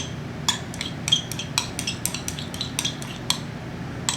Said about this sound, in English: I'm going to stir it up with my stirring rod.